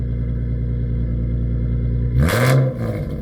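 A car with a new Spec-D Tuning exhaust idles steadily with a deep rumble, then a quick throttle blip sends the loud exhaust roaring before it drops back to idle.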